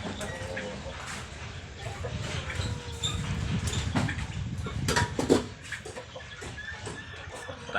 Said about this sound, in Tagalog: Pinakakain natin yung mga maliliit na kondon, yung mga pabo sa bibi, para mabilis silang lumaki.